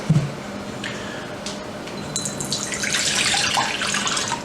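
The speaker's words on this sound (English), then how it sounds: "we're going to move this hot water into this bowl right here" Hot water pours into a mixing bowl while Cajun syrup cake batter is being prepared, a steady splashing stream that grows brighter and fuller toward the end, close and clear with no voices.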